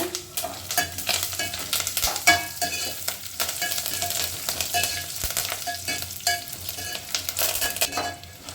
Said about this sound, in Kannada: ಈಗ ಒಣಮೆಣ್ಸಿನ್ಕಾಯಿ, ಕರಿಬೇವು ಸೊಪ್ಪು ಎರಡು ಹಾಕೋಣ.